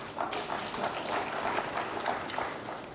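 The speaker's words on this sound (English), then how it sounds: "I'm happy that you clap for yourself." Inmates at a custodial centre clap together, a steady dense patter of many hands at moderate distance, continuous for a few seconds with no voices on top.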